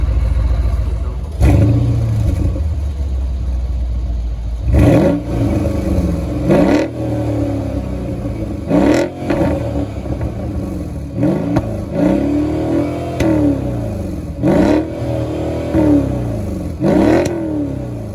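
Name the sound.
Mercedes-AMG GLE 63 S engine revving, exhaust sound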